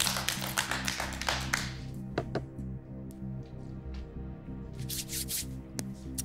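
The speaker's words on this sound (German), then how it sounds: "Du dürfst auch klatschen." Clapping in the studio of a TV cooking show, a burst of handclaps over the first two seconds that fades into low studio hum, with a few scattered taps later on.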